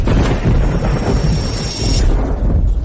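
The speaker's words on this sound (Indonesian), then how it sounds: "Guntur hukuman surgawi." Thunder of heavenly punishment in a dramatic fantasy scene with a dragon, a loud continuous rumbling roar with a crackling, rain-like hiss, close and dense throughout.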